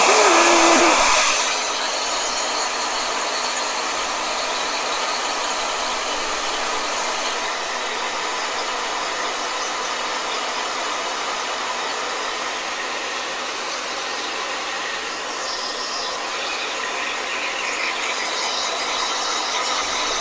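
A handheld blow dryer runs in a steady, loud, continuous whoosh to dry watercolor paint on a Pacific Islander painting, starting abruptly and holding constant throughout with no talking.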